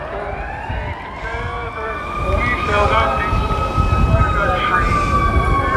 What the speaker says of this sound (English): Sirens you're hearing has nothing to do with the protest.